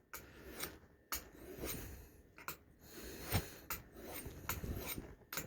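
A cutthroat blade is drawn in even strokes along a small ceramic sharpening rod, producing quiet, close, irregular scraping swipes, each a short sharp rasp separated by brief gaps.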